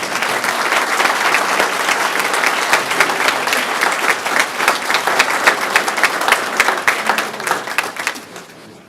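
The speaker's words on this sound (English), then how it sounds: "Round of applause." Sustained audience applause fills a county board of commissioners meeting room, steady dense clapping from many hands throughout, loud and close, tapering off at the very end.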